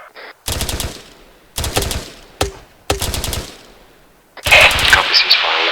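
Bursts of automatic gunfire aimed at a building during an attack/defense PvP drill, several loud separate volleys of rapid shots with short gaps, a single sharp shot in between, then a noisier burst at the end.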